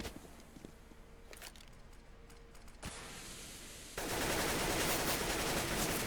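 Gunfire in Counter-Strike on the Inferno map during a PGL Minor match, a player shooting from a cart: rapid shots under steady game noise that jump louder over the final two seconds.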